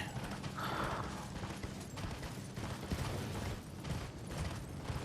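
Horse hoofbeats while riding in the Elden Ring video game: a steady clip-clop gallop that runs throughout, set inside a dense, continuous wash of in-game ambience.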